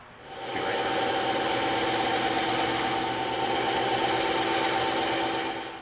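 A steady whirring bandsaw cuts EVA foam continuously for several seconds, a mid-pitched mechanical drone with no talking.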